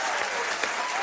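Sustained applause fills the moment, a dense wash of clapping hands that stays steady and fairly loud throughout, with no break and no voices standing out above it.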